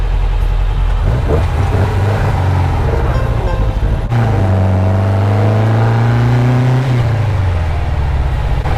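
A 1974 VW Super Beetle with a 2054cc stroker engine driving, the air-cooled motor droning loudly inside the cabin and rising in pitch as it revs through gears, continuous with road rumble.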